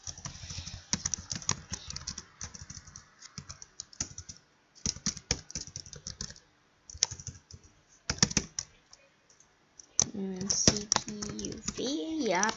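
Rapid bursts of typing on a computer keyboard, close and crisp, coming in clustered runs of keystrokes with brief pauses between, while a person talks over much of it.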